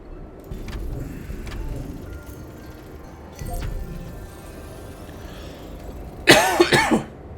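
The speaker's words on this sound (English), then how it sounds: "Stupid cough." A person indoors coughs in a short burst of three or four harsh hacks near the end, close to the microphone and much louder than the quiet background hum before it.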